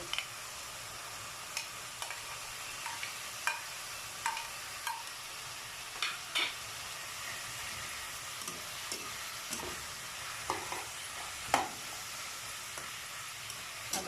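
Pork stir-fried in a pan with vegetables added, for a pork dish with chili and beans: a steady, moderately loud sizzle with scattered sharp clicks and scrapes of a spatula against the pan, no talking.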